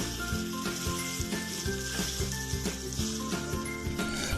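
Sugar and sulfur are stirred together in a mortar, a steady gritty scraping with a repeating rhythm heard over a constant background.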